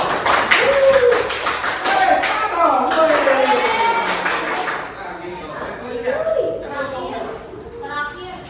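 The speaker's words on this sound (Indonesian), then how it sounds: "kasih tepuk tangan untuk kelompoknya Kansa, Sek, dan Kenji" Classroom applause for a student group, tapping and clapping from a class under the excited chatter of children's voices, steady and fairly loud throughout.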